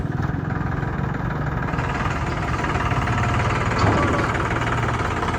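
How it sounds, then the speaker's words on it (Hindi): A tractor engine runs at a steady idle, with a constant low rumble and fine knocking vibration throughout and no speech. "ये भाई कपिल सर तो मस्त सेक्सी ट्रैक्टर चलाते हैं भाई साहब"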